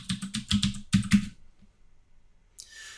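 A password is typed on a computer keyboard into an Ubuntu 16.04 Server install running in VMware Workstation: a quick burst of about eight close, crisp key clicks, then silence and a faint hiss.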